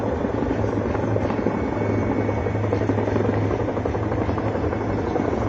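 Upgraded Mi-17 military helicopter hovering over a battlefield for a winch operation, its rotor and turbine drone loud, close and steady throughout with no voices.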